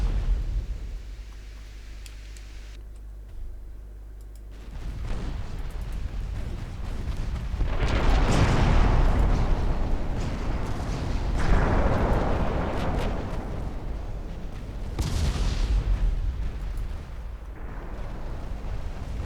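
Naval battle explosions and an incoming torpedo in the warship game Ultimate Admiral Dreadnoughts: a low rumble, then several loud booming blasts that swell and fade one after another.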